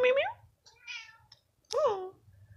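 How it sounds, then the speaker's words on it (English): A house cat meows indoors: two clear, rising meows separated by a short chirping sound, close and fairly loud against a quiet room. "Meow, meow, meow."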